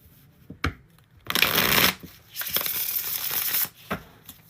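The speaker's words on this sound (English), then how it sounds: "We got one more shuffle for Michelle." Tarot cards are shuffled up close in two long riffling bursts, separated by a pause, with a few soft taps and handling sounds around them.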